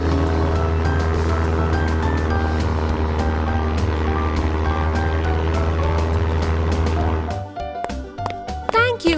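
A propeller airplane drones steadily and loudly for most of the stretch as a sound effect in a children's interactive learning show, then cuts off abruptly near the end, giving way to brief clattering sounds.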